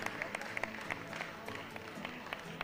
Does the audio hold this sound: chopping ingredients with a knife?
no